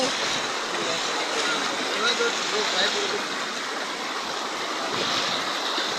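Floodwater flows in beside a high school in Sonagazi, Feni, making a continuous broad rushing wash of water that stays steady and fairly loud for the whole stretch.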